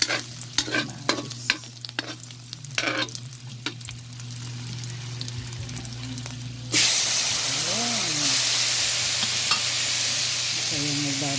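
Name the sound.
tomatoes frying and being stirred in a pan for ginisang munggo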